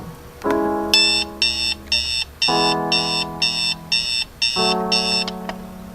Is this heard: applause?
no